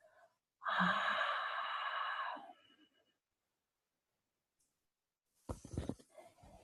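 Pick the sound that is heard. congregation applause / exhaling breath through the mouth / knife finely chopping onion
exhaling breath through the mouth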